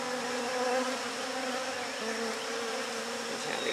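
Honeybees hum in a thick, continuous swarm drone while being hived, near and steady for several seconds, with individual bees whining past now and then.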